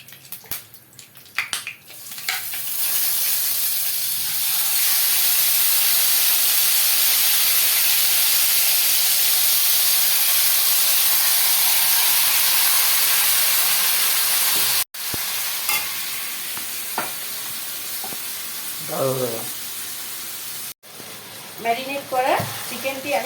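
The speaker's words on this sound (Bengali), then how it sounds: "ম্যারিনেট করা চিকেনটি আমি কড়াইয়ের মধ্যে দিয়ে এটা আমি ভালো করে কষে নিচ্ছি।" Marinated chicken sizzles loudly in hot oil in a kadai for a biriyani, a steady hiss holding for several seconds before dropping back under brief clatter and faint talk.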